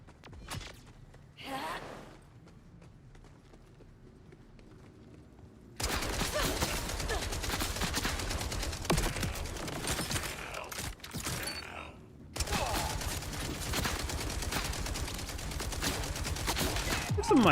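Dense, continuous gunfire from the looter shooter The First Descendant, loud sustained bursts from about six seconds on with a short break near twelve seconds, after a quieter opening with faint breathy sounds.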